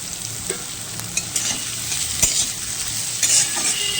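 Onions, tomatoes and green chillies sizzling in a pan, a steady frying hiss with occasional pops and scraping of a spatula stirring, close and continuous without talk.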